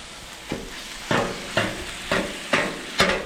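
Lean ground deer meat cooking in a pan while being broken apart: a soft sizzle under six evenly spaced scraping strokes of a spatula against the pan, close and moderately loud, with no voice.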